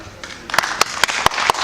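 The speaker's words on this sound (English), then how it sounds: "let's give him a big round of applause" Applause for a speaker at a blockchain conference cruise, starting as scattered light claps and then building into several sharp, evenly spaced claps that ring out clearly over a quieter room.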